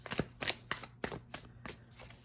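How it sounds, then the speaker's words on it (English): A deck of tarot cards is shuffled close by in quick rippling bursts, several soft riffles and slaps in a row with no talking. "Let me give it one more good shuffle,"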